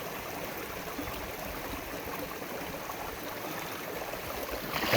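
River water flowing steadily in the Gila Wilderness, a broad continuous wash of noise with no distinct splashes, fairly close and even throughout.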